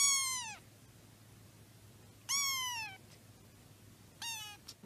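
A cat meows three times, each a clear, descending cry with gaps between, close and alone over a faint steady background hum.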